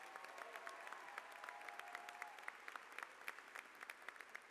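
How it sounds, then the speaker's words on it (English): Steady applause fills a graduation convocation hall, a dense patter of many hands clapping at a distance, fairly faint and continuous with no voices on top. "another round of applause for Nishat"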